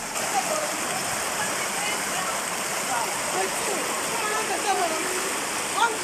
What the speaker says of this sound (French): Durant cette période de fortes pluies, cette route est envahie par les eaux.